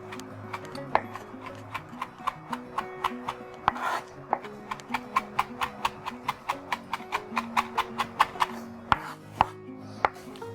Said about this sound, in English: you can use a chopping technique for this as well